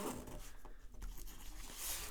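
A heavy-duty zipper on a pistol case bag is drawn in one continuous rasping pull lasting about two seconds, close and clear, with no talking.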